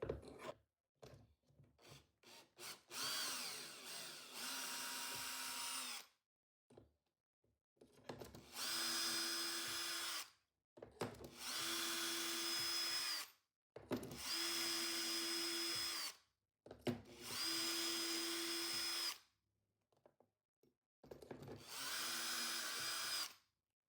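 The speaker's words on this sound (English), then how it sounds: "it's drilled out the holes in this MDF" A power drill bores shelf pin holes in MDF through a Kreg jig, giving five distinct loud whirring bursts of a few seconds each, separated by short silences, after a looser stretch of rattling handling.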